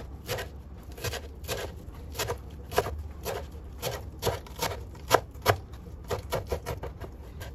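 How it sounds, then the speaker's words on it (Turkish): Parsley is chopped finely with a knife on a board for a cheese filling. The blade strikes fast and steady in a close, crisp run of taps that continues throughout with no talk. "İnce olacak şekilde doğrayalım."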